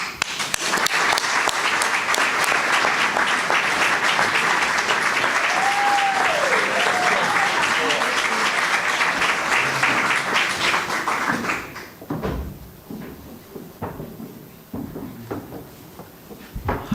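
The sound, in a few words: audience applauding award winners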